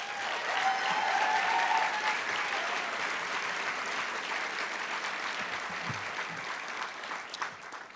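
An audience at a Keeper of the Dream scholarship event applauds the scholarship recipients, with steady, moderately distant clapping sustained throughout before tapering off into scattered claps.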